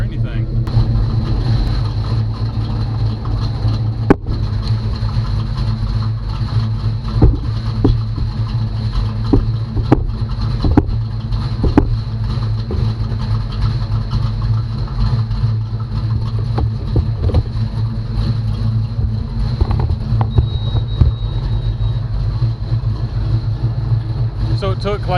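A 1985 Chevy C10 short-bed pickup engine idling, a steady low rumbling drone held throughout with a faint high whine, while a person talks near the truck.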